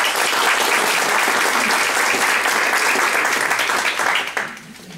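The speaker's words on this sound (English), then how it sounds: "So I will give a round of applause to Katrina and Eddie and all the people who just spoke on" Loud, dense applause fills a county party meeting room for speakers, holding steady for about four seconds before quickly fading out.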